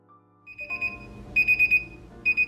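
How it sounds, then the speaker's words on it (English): The timer alarm on a 4T7 Smart Chopping Board goes off in a kitchen, repeated bursts of four high electronic beeps that sound clearly and loudly with short pauses between them. "I'm setting the timer for 15 to 20 minutes to remind me when the chicken is done."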